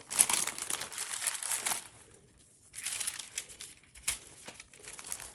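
A 2-gallon plastic Ziploc bag crinkles close up as it is handled and pulled over a cutting mat, in bursts of rustling and crackling separated by short quiet pauses.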